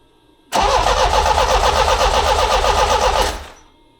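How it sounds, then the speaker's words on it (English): A Quad 4 engine in a Beretta Z26 cranks loudly and evenly for about three seconds, a fast rhythmic churning that starts abruptly and then dies away without catching. "So let's crank this."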